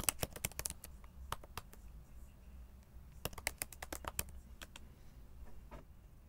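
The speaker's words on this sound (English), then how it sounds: "And then we type our project name." Rapid keystrokes on a computer keyboard as a project name is entered in a terminal, coming in two bursts of crisp, close clicks with a quiet pause between them.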